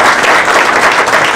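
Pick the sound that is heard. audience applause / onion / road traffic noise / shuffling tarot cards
audience applause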